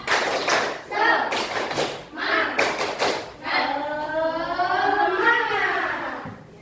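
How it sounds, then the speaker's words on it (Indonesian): A classroom of children doing a rhythmic 'tepuk semangat' clapping chant, bursts of clapping in a set pattern followed by young voices chanting together. "Tepuk semangat"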